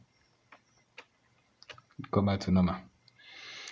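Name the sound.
computer mouse clicking in Excel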